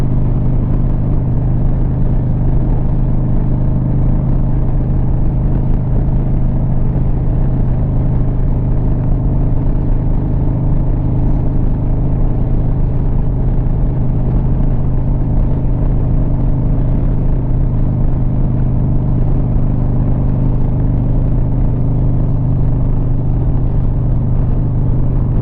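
A motorcycle rides over a bridge at St. Pete Bikefest on a sunny day. Its steady, loud engine rumble and wind roar run unbroken throughout, with no talking.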